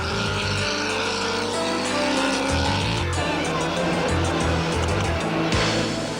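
Off-road rally cars and trucks at the 1989 Sun City 400, including a V8 Sandmaster and a turbocharged Toyota Hilux, race over a wet, muddy route. Engines roar loud and close and sound steadily throughout, with tire noise and splashing.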